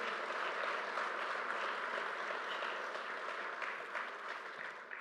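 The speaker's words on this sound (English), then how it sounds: "I want to give them a round of applause for what they did" Audience applause at a celebration for a LaGuardia Airport terminal, a continuous, moderately distant roll of clapping from a sizable crowd, fairly even and unbroken with no speech over it.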